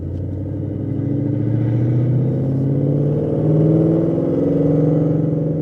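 A 2016 Ford Mustang RTR accelerates in second gear, its engine a deep, steady rumble that climbs slowly in pitch, loud and close from inside the car, with no talk over it.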